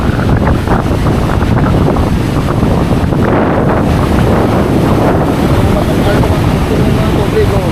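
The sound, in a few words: sea waves and wind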